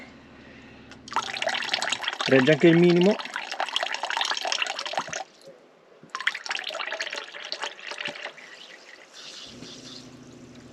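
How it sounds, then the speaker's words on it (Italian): Water gushes from a newly installed tap in a DIY camper van in two bursts of a few seconds each, with a steady rushing splash. Someone talks between and over the flow. "Vedete, l'acqua viene senza colpi di ariete"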